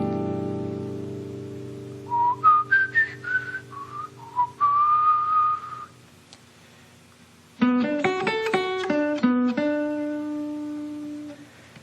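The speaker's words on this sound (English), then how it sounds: "I'm going to externalize it by whistling it." A person whistles a melody in clear, pure tones, first a rising and falling phrase, then a short pause and a second, busier run of notes.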